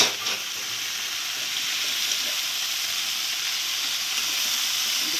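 Ponnaganti leaves frying in a pan make a steady, bright sizzle close by, with faint stirring under the hiss and no one talking.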